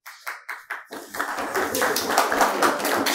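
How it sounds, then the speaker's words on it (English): An audience claps in a Daf Yomi class, starting with four sharp separate claps from one pair of hands and then swelling into a dense spread of applause from many people that carries on to the end. "It's nothing to clap about."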